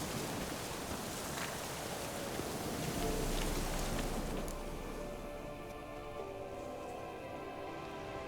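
Rain falls in The Witcher 3 video game with a soft, continuous patter and hiss that stays even and fairly quiet, with no talking over it.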